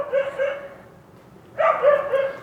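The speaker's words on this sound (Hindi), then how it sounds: "अरे यार ये कुत्तों की आवाज़" Dogs barking outdoors, two loud bursts of barking separated by a short pause, fairly close and alone with no talk over them.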